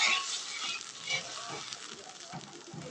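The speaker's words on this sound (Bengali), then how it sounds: "জলটা দিয়ে আমি একটু নাড়িয়ে দেবো।" Curry being stirred in a pan just after a little water goes in: a soft, steady sizzle with faint scraping strokes of the spoon, close and continuous, with no voices.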